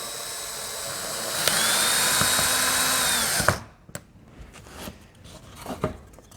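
A cordless drill driver set to speed 1 drives a screw, giving a steady whining motor hum for about two seconds. It stops abruptly, and a few faint clicks and handling noises follow.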